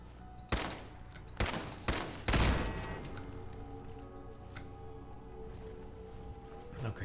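Turret gunfire in Fallout 4 bursts out in three or four sharp, loud volleys close together, followed by a ringing tail and lingering low rumble, with a voice speaking faintly beneath.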